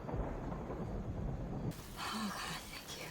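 Thunder and rain in a film scene about a woman trapped in a canyon with her leg pinned by a car, a low rumbling wash of rain that drops off partway and is followed by quieter, fainter rumbles.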